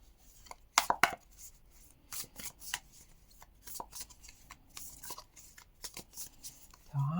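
Irregular crisp riffling and snapping of playing cards being shuffled close by, in short bursts separated by quieter handling noises.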